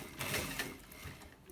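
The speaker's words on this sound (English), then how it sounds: "So let's quickly stitch it so we get to finish." Sewing machine running steadily while stitching a single welt pocket, a soft continuous mechanical whir at moderate level, alone with no talk.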